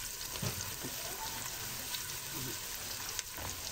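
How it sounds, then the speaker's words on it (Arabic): Chopped onion fries in a pan for Egyptian koshari, a steady, close hiss of sizzling oil with faint crackles and the occasional stir, and no talking. "نحط البصله نشوحها بس كده تصفر شويه"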